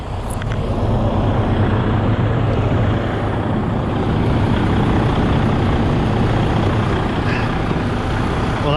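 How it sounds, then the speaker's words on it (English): A 2013 Freightliner Coronado tandem-axle highway truck's diesel engine idles steadily, a dense, loud, even rumble that holds throughout with no voices. "I'll now get out and let you listen to the motor."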